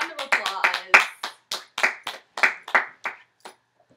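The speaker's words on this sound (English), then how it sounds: "Let's give Elizabeth Proctor a round of applause." A small group gives a round of applause for Elizabeth Proctor at a mock talk-show for a Crucible project, about a dozen separate, crisp claps in a loose rhythm that thin out and fade.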